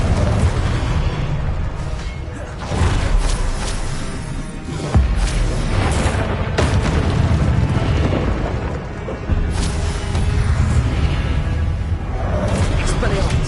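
Confringo blasting spells explode in the Hogwarts Legacy video game, producing a dense, continuous barrage of loud rumbling booms and crackling bursts that barely lets up.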